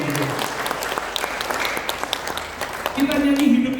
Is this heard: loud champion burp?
no